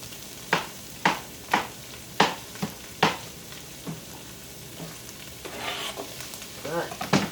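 Apple chunks and onions fry in a pan, a continuous sizzle broken by a series of sharp spoon knocks and scrapes against the pan early on, then busier stirring with louder crackles toward the end.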